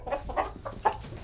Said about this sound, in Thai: อันนี้ก็เป็น ไก่ตีเนาะทุกคนเนาะ